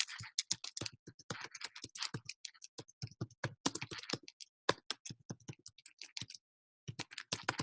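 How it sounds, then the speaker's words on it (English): Rapid, uneven keystrokes on a computer keyboard, typed in bursts with brief pauses, close and fairly quiet with no talking. "we can type that here."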